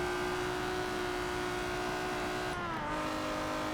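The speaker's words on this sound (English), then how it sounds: "So I'm going to change gear." A slow car in Forza Motorsport 7 racing at speed around the Nürburgring, its engine holding a steady high drone before a gear change briefly cuts the tone and drops the pitch, then the engine pulls on.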